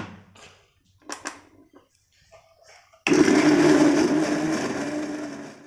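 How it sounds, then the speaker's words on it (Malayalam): Tender coconut flesh with its water whirs in a blender, starting abruptly after a few seconds of quiet handling clicks and then running loud and steady to the end. "ആദ്യം നമുക്കത് അടിച്ചെടുക്കാം."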